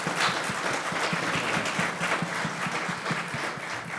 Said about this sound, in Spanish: ¿Qué tal si les damos un aplauso a ellos?